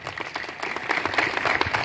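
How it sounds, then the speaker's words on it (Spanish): Audience applause following a public speech at a Latino-Cajamarca 2022 event honoring the mayor, a burst of brisk clapping that swells in density over the brief moment, loud and close. "con sus fuertes aplausos, por favor"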